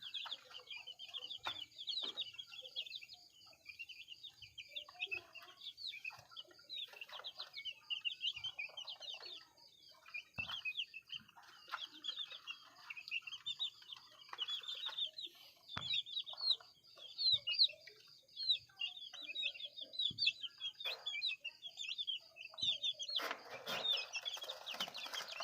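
Hens and a rooster clucking steadily at a breeding pen of backyard chickens, the chatter dense and continuous through the whole stretch, with brief louder calls near the end and no voices.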